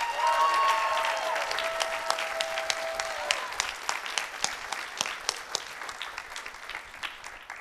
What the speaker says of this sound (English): Please give a round of applause for our Chamber Singers Members of the Year, Maya Deshmukh and Bella Pasquinzo.